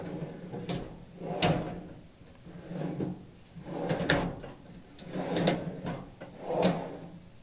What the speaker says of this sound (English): Here's a little close-up of the drawer slides,